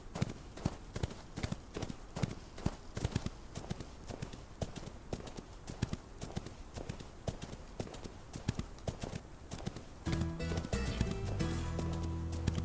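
Horse hooves clip-clopping in the video game Outlaws of the Old West, a fast, steady galloping rhythm that continues throughout, with a denser, tonal game sound coming in near the end.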